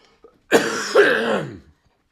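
A single harsh, raspy cough bursts out loud and close, followed immediately by a second, drawn-out hacking cough trailing off after about a second.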